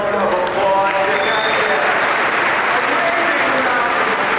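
A luncheon audience applauds young residents who have stood up, dense steady clapping filling a large room with voices mixed in, loud and continuous throughout.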